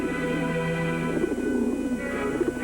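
A crowd of young racing pigeons waits at the starting line before a long race, cooing. The low, rolling coos run together in a dense, continuous chorus close by, with no voices.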